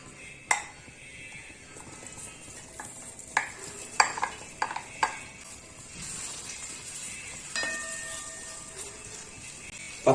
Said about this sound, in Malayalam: ഈ വെണ്ടയ്ക്ക നമുക്കൊന്ന് വറുത്തെടുക്കാം